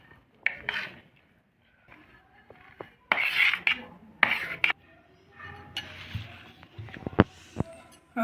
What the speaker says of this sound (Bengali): এবারে তাহলে মটরশুঁটিটা মেখে নিচ্ছি।